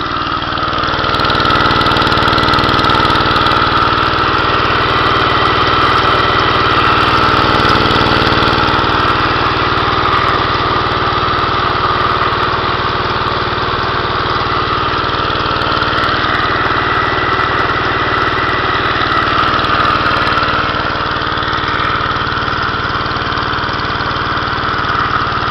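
An engine running a hooked-up alternator to charge solar panels drones loud and steady like a small mower motor, an unbroken close-up hum with no talk.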